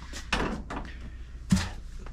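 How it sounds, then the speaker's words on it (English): Rear doors of a Prevost XL2-45 bus are opened by pulling a lever, giving a few close, solid thunks and clunks, with one sharp knock partway through. "To open the rear doors on a Prevost, you got a lever that you pull here,"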